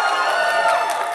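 Convention audience at a fan event's opening ceremony cheering and whooping in a brief, loud, continuous burst of voices.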